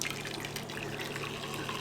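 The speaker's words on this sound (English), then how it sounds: "Okay, so I'm going to pour my hot water in here." Hot water pours steadily into a container for makeup-brush cleaning, a continuous close splashing and trickling that fills the whole short moment with no talking over it.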